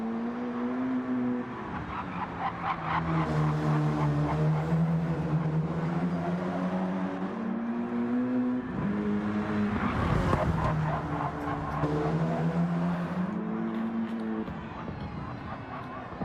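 Race cars in a sim racing game at Catalunya, engines rising and falling in pitch through gear changes, loud and close, with a sharp burst of overlapping car noise midway.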